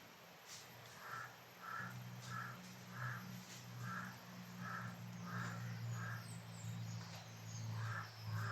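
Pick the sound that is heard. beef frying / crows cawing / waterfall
crows cawing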